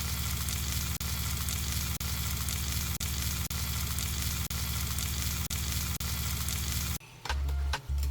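Bammy, a cassava flatbread, frying in a pan with a steady bright sizzle that runs evenly for several seconds, broken by brief regular dips, before cutting off into quieter clatter.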